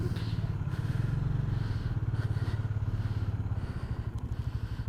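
A motorcycle loaded with full fuel cans on both sides rides on a mountain road, its engine holding a steady, pulsing thrum close by with some clatter and no speech.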